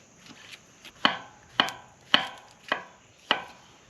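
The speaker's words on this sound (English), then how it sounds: "Cut some mushrooms," A knife slices mushrooms on a cutting board at an outdoor cooking spot, five crisp, evenly spaced chops close up, with quiet gaps between them.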